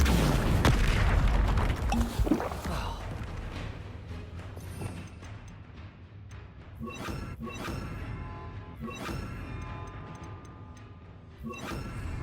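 Confringo fire spells burst during Hogwarts Legacy combat, a heavy loud boom opening the stretch, then rumbling impacts and crashing debris with scattered sharp hits and rattles that continue at lower level.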